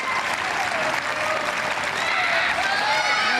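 A crowd applauds and cheers after a men's individual BC4 boccia final, steady dense clapping with rising whoops and shouts, close and sustained throughout.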